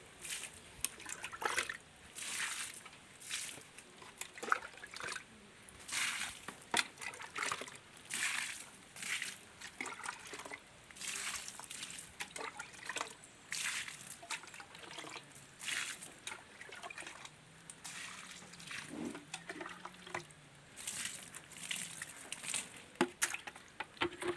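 Liquid fertilizer trickles and splashes from a container onto palak spinach in a grow bag, a steady dribbling pour with small sloshes, close and fairly quiet, no voices.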